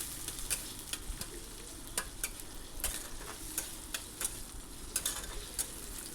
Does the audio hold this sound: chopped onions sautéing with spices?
yes